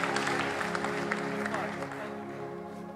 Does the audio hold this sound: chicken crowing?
no